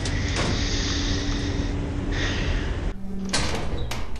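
A door in the horror game Lethal Company opens with a loud mechanical slide and clunk, followed by a brief quieter pause and further thuds and rumbling machinery close up.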